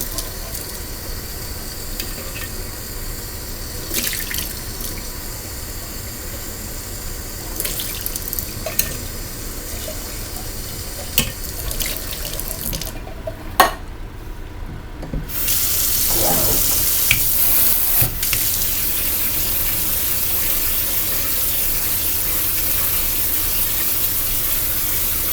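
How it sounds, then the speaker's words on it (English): Container rinsed under a running kitchen tap for recycling, a continuous close water stream that grows louder and fuller partway through, with occasional clinks and knocks. "let's rinse that out for recycling."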